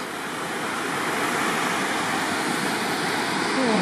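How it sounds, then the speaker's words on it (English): A small waterfall beside a forest logging road gives a steady, loud rushing of falling water that stays even throughout, with no talking. "There's a nice little waterfall up there"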